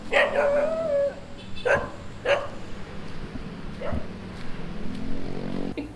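Several dogs bark in short, sharp bursts outdoors at Tirta Gangga water temple in Bali, with a whimpering yip at the start and scattered barks spaced over a background murmur.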